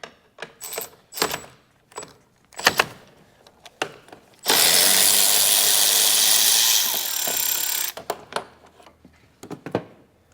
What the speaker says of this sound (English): get a 13mm socket to disconnect this nut right here.